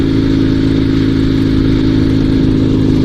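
Engine of a Dnepr 2WD sidecar motorcycle running rough off road, a steady loud low-pitched drone with uneven clattering pulses throughout, alone with no voices.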